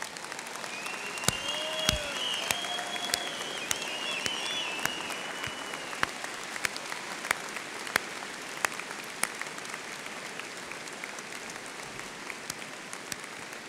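Broad, steady applause from a graduation audience at the Clarkson University commencement ceremony as mothers and grandmothers stand, continuous dense clapping with a few sharper near claps and a faint whistle early on.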